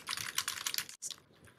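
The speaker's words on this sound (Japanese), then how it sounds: "同じ勢いでキーボードをタッチしています" Rapid computer keyboard typing during a conference-room microphone demonstration, a dense run of sharp clacking keystrokes heard alone, breaking off briefly before resuming more softly.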